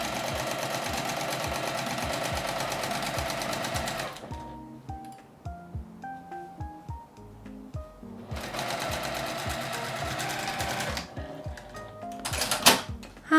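A domestic sewing machine stitches a 1 cm seam allowance on fabric for a magnetic pot trivet. Two loud, rapid bursts of stitching are separated by quiet clicks and handling noises.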